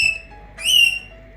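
A pet parrot whistles clear, high tonal notes: one short call at the start, then a louder, bright sustained whistle with harmonics mid-clip, close and alone with no talk.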